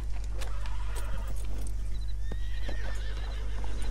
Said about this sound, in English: that's a herd of paint horses